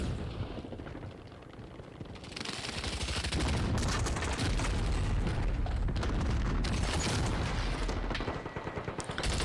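Heavy gunfire and explosive blasts from the Warzone battle royale game roar in a dense, sustained barrage that swells after a quieter opening and stays loud to the end.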